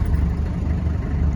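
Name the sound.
1986 Land Rover 90 diesel engine starting and idling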